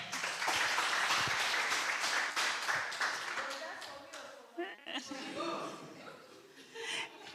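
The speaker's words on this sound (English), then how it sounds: "A round of applause for her." Applause from a retreat audience greets a maternal and perinatal death review official, steady clapping for several seconds that thins out as a voice begins talking.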